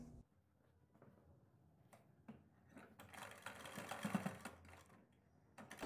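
A sewing machine stitches a kurti neckline, quiet at first, then a faint whirring run of stitching with light mechanical ticks and clicks, heard alone without talk.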